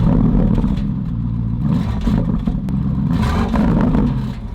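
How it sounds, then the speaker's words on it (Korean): A Porsche Cayenne Turbo GT, a 650-horsepower SUV, revs its exhaust in loud surges, the engine note rising and falling several times up close with some clatter, and no talking. "미친 배기음을 자랑한다고 하니까 그 배기음도 여러분들과 함께 최초로 한번 느껴보도록 하겠습니다"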